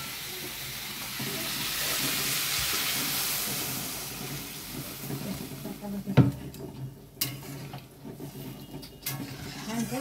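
Water poured into a sizzling potato curry in a home kitchen pan, with a steady frying hiss that settles into softer bubbling and a few sharp clanks of the spoon as it is stirred.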